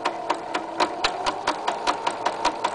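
A sewing machine stitches the two sides of an apron together, running a steady, fast mechanical chatter of evenly spaced needle strokes, loud and close, with no speech.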